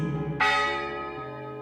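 A single resonant school bell strike rings out and slowly decays, its metallic overtones lingering with no other sounds around it.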